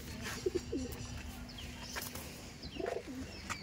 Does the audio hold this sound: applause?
no